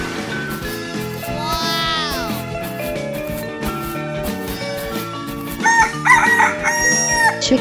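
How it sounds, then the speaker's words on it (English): A rooster crows over bouncy background music, followed by a short exclaimed voice and some bright chiming notes. "Chicken."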